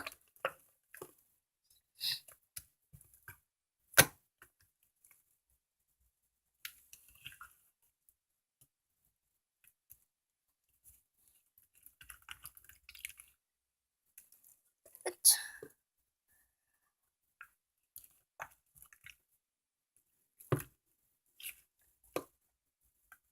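Green grape slime being stirred by hand, giving soft, sticky squelches and wet pops in irregular bursts, with a quiet whispering voice now and then between the squishy sounds.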